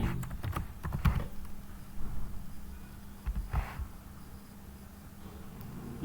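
Keys clatter on a computer keyboard as a SQL query is typed, with clustered bursts of quiet, close tapping and short pauses between them.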